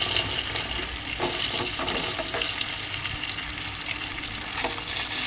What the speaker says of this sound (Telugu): గుడ్లు ఉడుకుతూ ఉన్నాయి.